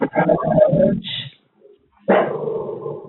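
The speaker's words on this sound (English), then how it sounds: "Oh, there goes my dogs" Dogs bark in a burst of loud, sharp yelps, pause briefly, then start up again, close and slightly muffled.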